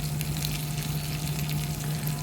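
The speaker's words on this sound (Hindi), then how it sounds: "अच्छे से करी पत्ता चटक गया है।" Curry leaves and whole Kashmiri red chillies sizzle in hot oil for a tempering, giving a steady, close crackling fry with fine popping spatters and no talking over it.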